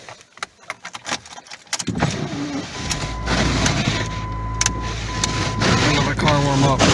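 Keys jangle for a couple of seconds before a car engine starts after a cold start in blizzard conditions and settles into a steady, close idle while it warms up.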